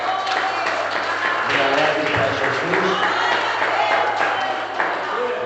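Church congregation applauding together, a steady dense wash of clapping that runs the whole time with a voice speaking over it.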